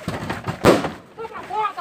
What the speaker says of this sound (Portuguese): Eu ouvi até um tiro.